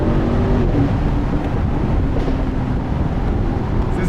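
Broadband engine and road roar from a 2022 Mercedes SL63 AMG on the move, steady and loud throughout with wind noise over it and no voices.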